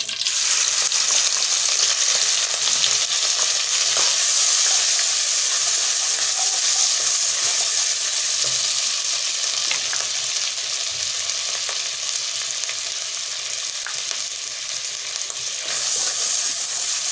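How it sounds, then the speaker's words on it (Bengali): Black cumin and onion frying in a pan, a steady broadband sizzle that holds loud and even throughout with occasional stirring clinks, no voices. "পেঁয়াজটা আমি খুব সুন্দরভাবে কষিয়ে নেব"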